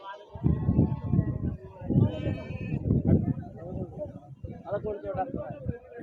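A black native goat bleats several times close by while people talk over it.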